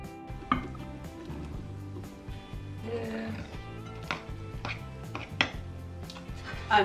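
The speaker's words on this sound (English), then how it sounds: "So chop up about 1 cup's worth of dried apricots." Dried apricots being chopped with a knife on a board, a series of uneven sharp taps and knocks spaced through the stretch, under steady background music.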